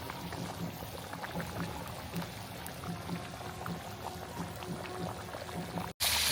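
Hot water is poured into a spicy masala duck curry cooking in a village kitchen, making a continuous pouring gush over bubbling liquid, with a louder burst right at the end.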